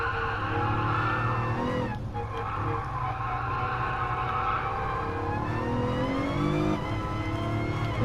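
A racing car in Gran Turismo Sport runs with a steady engine drone while tonal brake squeal rises and bends above it, a brief gear change briefly interrupting the sustained whine.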